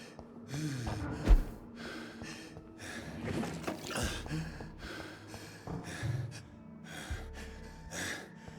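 Low-health panting from the player character in Vampyr, steady heavy breaths and gasps repeating over game ambience, fairly close and moderately loud.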